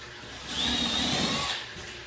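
A power drill with a countersink bit whirs briefly at moderate volume, revving up for about a second before winding back down, with no voices.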